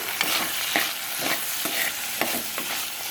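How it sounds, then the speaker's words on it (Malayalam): Okra sautéed with salt in a pan over a medium flame gives a steady close sizzle, broken by repeated scraping and clinking stirs at an uneven rhythm, with no talking. "വെണ്ടയ്ക്ക ഇത്രയും ചേർത്ത് നന്നായി ഒന്ന് വഴറ്റി കൊടുക്കാം."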